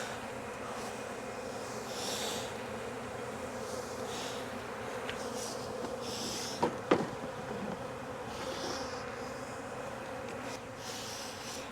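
A honeybee swarm buzzes steadily as it is brushed into a hive in Jacksonville, Florida, a dense, continuous hum with a couple of brief knocks partway through.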